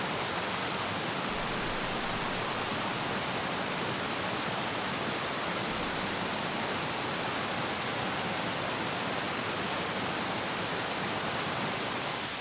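Brasstown Falls pours over tiered rock ledges in a 50-foot drop. A steady, dense roar of falling water fills the sound without pause, loud and close.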